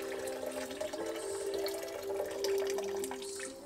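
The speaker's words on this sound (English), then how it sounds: "let's get rid of the water." Water poured out of a compact handle-less saucepan in a caravan, a short steady splashing stream running for a few seconds, close and fairly quiet.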